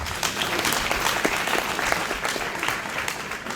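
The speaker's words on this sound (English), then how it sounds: "I think we should clap hands for WAPO as well." A crowd at a Pan-African socialist conference opening ceremony applauds with dense, continuous clapping that holds steady for a few seconds, no speech over it.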